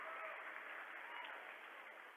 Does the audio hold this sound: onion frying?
no